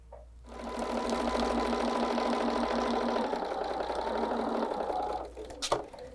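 Sewing machine running a quarter-inch seam on a table runner with a walking-foot style feed, one loud continuous close-up burst of fast stitching that eases off near the end, with a brief clunk of handling.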